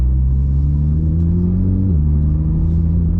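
Porsche GT3 RS engine rumbling loudly and steadily with its exhaust valve open, a deep continuous drone that rises slightly in pitch and then drops back, with no voices.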